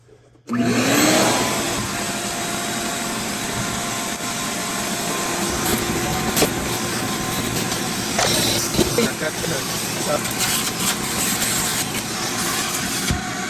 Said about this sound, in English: I'm going to clean that up and clean this mess in here up with the vacuum cleaner